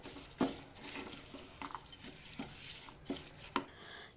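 Rice being stirred into yogurt and spices in a cooking pot for a black-eyed pea pulao, with a spoon scraping and clacking against the pot in irregular, close strokes and soft wet mixing between.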